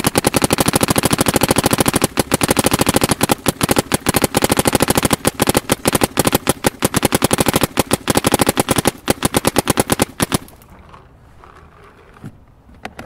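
A Planet Eclipse Etha 2 paintball marker fires a long, fast, rapid-fire stream of shots, close and loud for about ten seconds, with a short gap partway through, then stops and leaves near silence.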